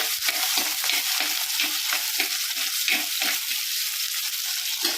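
Ginger, garlic and small shallots frying in hot oil in a pan for a sardine curry, with a steady sizzle broken by regular scraping strokes as the spoon stirs through them, close and fairly loud.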